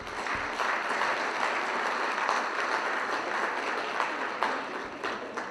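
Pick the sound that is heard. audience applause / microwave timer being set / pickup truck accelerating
audience applause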